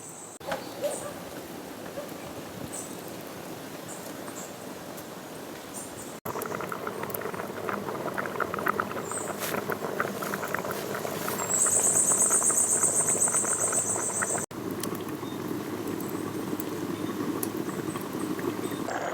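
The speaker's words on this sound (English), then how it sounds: "rice pot a bubbly now" A rice pot bubbles and simmers over an outdoor wood fire, a soft continuous patter of boiling with faint crackles and a brief high squeak partway through.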